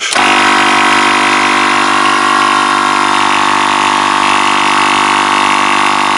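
An Echo RSM 222 ES brushcutter's small two-stroke engine, just repaired and being run in, starts and runs continuously close up, a loud buzzing drone with a steady tone.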